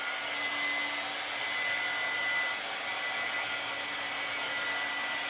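A hair dryer blows a steady, close, even whir as it dries freshly applied chalk paste on a craft surface, with no talking over it.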